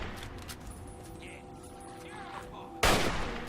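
A single sharp gunshot from the video game Fallout 3 cracks loudly near the end, over a low hum of game ambience, with no talking.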